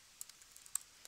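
A username is typed on a computer keyboard as a quick run of faint, light key clicks, close but quiet, with uneven spacing.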